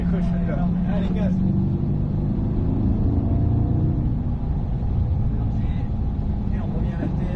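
A Corvette C8 on a race track drones with a steady, loud low engine rumble under continuous talk inside the car.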